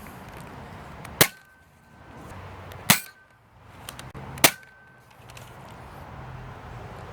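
A K26 Hot Shock Nerf blaster fires LighTake darts: three sharp, loud pops spaced evenly about a second and a half apart, each with a short ringing tail, with no voices.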